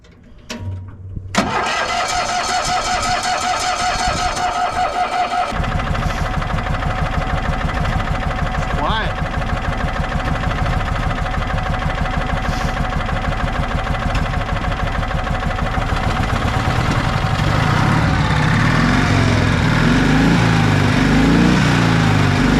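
A 1965 Cushman Truckster with custom dual exhaust cranks briefly, fires up and settles into a steady, loud, close putt-putting idle that continues for the rest of the clip.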